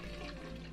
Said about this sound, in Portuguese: Dá descarga, ó.